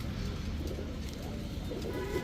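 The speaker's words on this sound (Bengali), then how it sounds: "দেখেন এক জোড়া আর্মি কবুতর" A pair of army pigeons coos softly in a low, repeating throaty rhythm, heard faintly beneath a steady rumble of background noise at a roadside pigeon seller's stall.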